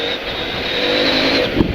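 A CFMOTO 800MT Touring motorcycle pulls hard under acceleration, its engine a steady close drone with a brief quick-shift upshift break near the end.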